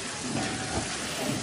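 Ground garlic and spice paste frying in a pan while being stirred, a dense steady sizzle and crackle that stays loud and constant throughout.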